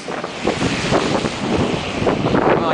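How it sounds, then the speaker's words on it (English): Storm wind and ocean waves at Hampton Beach: gusts buffet the microphone over a continuous roar of crashing surf, loud and turbulent throughout. "The waves are starting pretty far out there."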